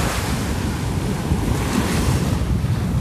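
Surf breaking and washing continuously at Bugalhau beach in Maragogi, with steady wind buffeting the microphone into a loud, dense roar throughout and no voices.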